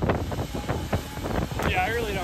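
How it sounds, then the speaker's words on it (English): Strong gusty wind buffeting the microphone outdoors, a loud continuous rumble with rough bursts, while people talk over it. "it is incredibly windy"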